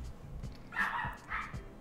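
A house dog barks a couple of times nearby, two short bursts of yapping heard indoors over a low background hum.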